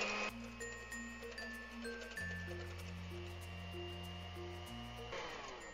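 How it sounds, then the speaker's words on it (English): An electric hand mixer beating egg whites and yolks for keto flat bread, a steady whirring motor hum that shifts pitch partway through, close and fairly quiet with no talking. "I'm going to start beating these. I'm using an electric mixer."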